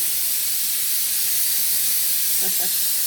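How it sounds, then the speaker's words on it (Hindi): A pressure cooker full of cauliflower and meat (gobhi gosht) lets out its first whistle, a loud, continuous, close-up steam hiss that holds steady from start to finish. "हमारा कुकर जो है ना वो तो स्टार्ट हो गया, पहली विसल उसने दे दी है"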